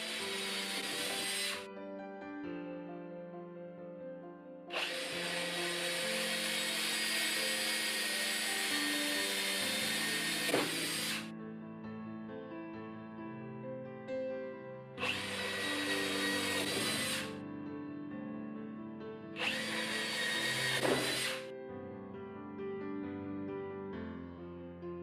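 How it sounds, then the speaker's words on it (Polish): A power drill with cheap Parkside bits boring into plywood in several bursts, loud whirring and grinding with short pauses between holes, no one talking. "Ostatni test to wiercenie w sklejce."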